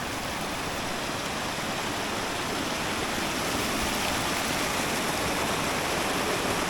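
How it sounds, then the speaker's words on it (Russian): Mountain river Kazachka rushing steadily in a snowy range, a dense, continuous roar of flowing water close by, with no voices. "Вышли к речке Казачке."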